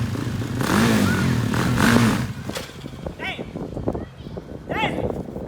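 A new ATV's engine revving outdoors with the clutch being popped, a rough, uneven motor drone that surges and dips while people talk loudly over it.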